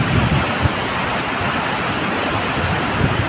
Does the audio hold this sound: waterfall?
yes